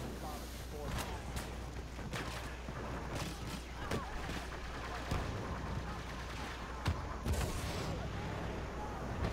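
Artillery barrage in Star Wars Battlefront, a dense run of booms and gunfire cracks rolling over several seconds at moderate level, with irregular louder hits scattered through.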